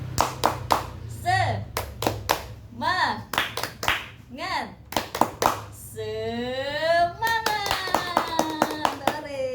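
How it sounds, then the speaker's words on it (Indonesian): A group of pregnant women clapping a rhythmic motivational clap pattern together, sharp bursts of claps in short rhythmic groups mixed with chanting voices and a sung or called-out melody toward the end. "kita tepuk semangat dulu ya bersama-sama"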